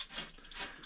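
A ratchet wrench tightening a nut on the underside of a Suzuki GP100 motorcycle, giving two or three quick clicking ratchet strokes up close.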